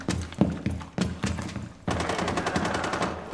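Automatic gunfire in Rainbow Six Siege, several sharp single shots followed by a sustained rapid burst, loud and close, with no talking.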